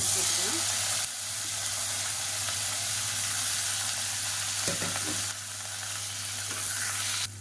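Long-sliced large onions fry with whole spices and curry leaves in hot oil, a steady sizzling hiss with light stirring, continuing throughout at close range.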